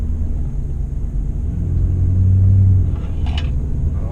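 Leveled Ford F250 pickup rolling on oversized 38x15.50 tires, a loud steady low rumble and road drone from inside the cab that swells slightly midway with no talking.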